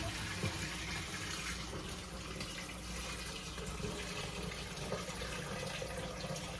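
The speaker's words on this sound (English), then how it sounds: "The only thing left to do now is add some water to it." Water pours steadily into a jellyfish aquarium, a continuous close rushing and splashing fill with no pauses and no voices.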